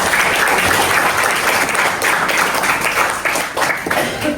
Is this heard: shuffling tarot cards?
no